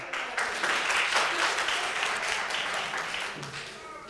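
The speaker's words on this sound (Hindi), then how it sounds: "इनके लिए भरपूर तालियां" An audience in an arts council hall gives sustained, full applause for young girl prize winners at a naat competition, a dense wash of clapping with faint crowd murmur.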